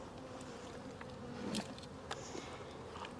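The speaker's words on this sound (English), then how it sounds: "Here's those bees again." Honey bees buzz steadily around an open hive during an inspection, a close, low drone with faint handling clicks and rustles.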